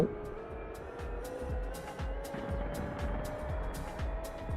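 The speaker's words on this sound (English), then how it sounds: "Listen to that marvellous two-tone engine starting up" An engine starting up in a flight-sim game, with a two-tone note: a steady drone with a slowly rising whine and a regular low thumping pulse, held at an even, moderate level.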